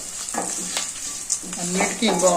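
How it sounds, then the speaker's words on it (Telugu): Coriander leaves frying in a little hot oil in a pan for a carrot fry, giving a steady soft sizzle with brief crackles and occasional stirring scrapes, fairly close, without talk. "కొత్తిమీర బాగా కొంచెం నూనె వేగితే బాగుంటుందండి"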